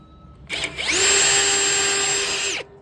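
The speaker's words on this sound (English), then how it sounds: "I had to drill out the dang shaft on that to get that bad boy out" A power drill bores out the shaft of a variable speed condenser fan motor, a loud close whine that revs up fast, holds steady for about two seconds, then cuts off.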